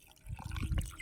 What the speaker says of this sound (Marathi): पाणी टाक आता.